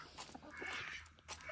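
Ducks quacking in a yard, a few short nasal calls in quick succession at moderate distance, faint and without talk.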